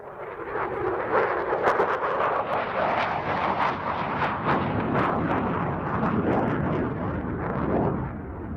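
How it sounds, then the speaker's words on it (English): An F-16 fighter jet flying a knife edge pass at an air show gives a loud, continuous roaring rush with crackling edges that stays intense throughout, heard near with no clear speech. "The F-16 and the knife edge pass."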